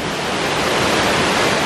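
Waterfall pouring into a natural pool, a loud, dense, steady roar of rushing water heard up close without any voices.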